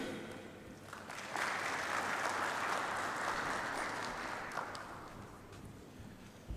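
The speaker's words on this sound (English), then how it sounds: "when you hear a spontaneous applause, it's a very good indication that the message is getting in" Spontaneous applause from an audience at a talk on resilience after COVID-19, rising after a second and holding steady for several seconds before fading, heard at a distance and fairly quiet.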